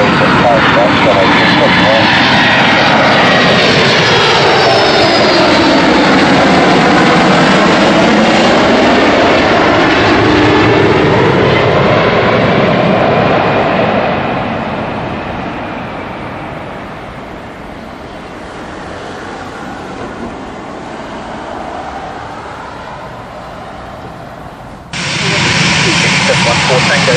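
A Cathay Pacific Boeing 747-412 taking off from runway 27 left at Heathrow, a loud roaring engine sweep that swells and shifts in pitch as it passes, then fades into a distant rumble.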